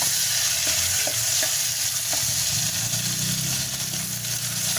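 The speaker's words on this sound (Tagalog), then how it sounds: "Gisa-gisa muna." Tomatoes sautéing in a pan for a sardine and glass-noodle dish, a continuous loud sizzle with occasional stirring clicks, close and steady, no talking.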